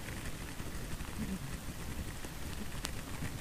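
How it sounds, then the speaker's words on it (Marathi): Heavy rain falling hard near Lonavala, a thick continuous roar of drops striking surfaces, steady and unbroken for the whole stretch without any voices. "खतरनाक, एक नंबर पाऊस."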